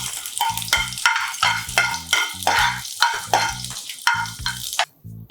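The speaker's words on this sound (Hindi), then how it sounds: "अब तेल गरम हो गया है। सबसे पहले इसमें डालेंगे अदरक" Ginger sizzles loudly in hot oil as the base of a Maharashtrian misal masala, with steady crackling frying and rhythmic scraping stirs of a spoon in the pan, close up and without voices.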